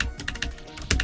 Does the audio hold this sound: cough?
no